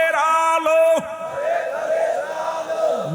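Massed voices at a religious gathering answer a slogan call with a loud drawn-out takbir shout, followed by a rolling, less unified crowd roar that fades out over a few seconds.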